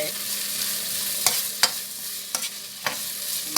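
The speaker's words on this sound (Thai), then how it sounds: "ตั้งกระทะให้ฮ้อน แล้วเขาก็ใส่ เครื่องแกงเขาลงไป" Curry paste sizzles in a hot pan for a duck stir-fry, a loud continuous fry with occasional sharp scrapes of the spatula stirring it.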